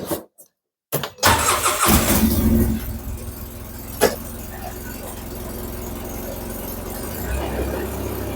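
A car engine turns over and starts after an axle repair, then settles into a steady idle with a brief knock partway through and a slight rise in revs near the end.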